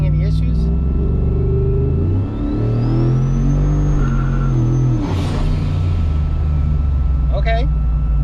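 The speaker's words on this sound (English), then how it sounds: "I just gave it about a half throttle and it lit up the tires" A turbocharged Ford F150 on 10 psi of boost accelerates at half throttle with its tires spinning: a loud, steady engine rumble with a rising whine, while someone talks over it.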